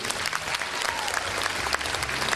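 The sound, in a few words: concert audience applause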